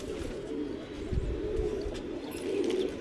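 A pigeon coos in low, throaty rolling calls, a few drawn-out murmurs close by over a steady room hum.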